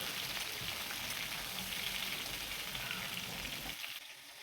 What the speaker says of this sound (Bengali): পটলগুলো হালকা লাল লাল করে ভেজে নেব।